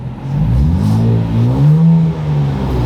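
A Nissan Z with an AWE Touring & Track Edition exhaust revs steadily, its engine note rising and falling through a smooth, loud, droning tone with no talk.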